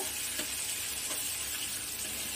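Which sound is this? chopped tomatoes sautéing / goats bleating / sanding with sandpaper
chopped tomatoes sautéing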